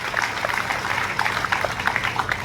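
Applause from a crowd at a community gathering with district police, a steady patter of many hands clapping at moderate loudness.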